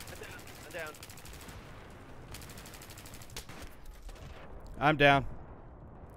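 Gunfire and a grenade blast in the shooter game Battlefield 3 come as bursts of rapid shots and sharp cracks at moderate loudness. Someone speaks briefly near the end.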